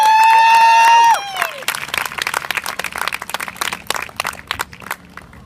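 At an eating disorder awareness talk, a loud sustained sung or shouted tone opens, then gives way to lively audience clapping and cheering with distinct, fairly close claps and a few voices in the crowd.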